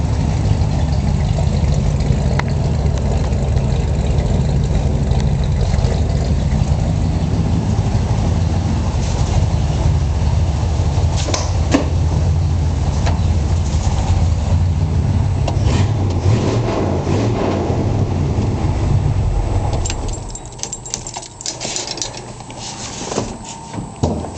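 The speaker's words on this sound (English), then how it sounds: "That's the rumble of the mighty Ford 460." A low, steady rumble of a Ford 460 V8 in a 1974 Ford F-350 truck idles continuously close by, with faint clicks and a brief drop in loudness near the end.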